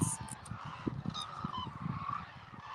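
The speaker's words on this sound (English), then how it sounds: "So now you can see various kind of birds here, and they try to reach the weeds." A flock of birds gathered to feed on scattered wheat in Izumi, Kagoshima, including crows, with busy goose-like honking and overlapping calls near and far, plus scattered higher chirps over steady background noise.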